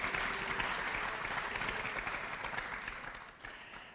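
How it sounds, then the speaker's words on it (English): A steady round of applause from the audience at a community access television annual meeting and appreciation awards event, dense and even throughout before tapering slightly at the end. "So a round of applause, please, for all of those wonderful people."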